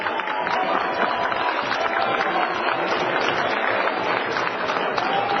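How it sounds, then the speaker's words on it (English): A minor league baseball crowd at a 2003 Cedar Rapids Kernels home game against the Fort Wayne Wizards gives sustained applause for a starting pitcher leaving the game, a dense, steady clapping heard from a distance throughout without talk. "Listen to the crowd."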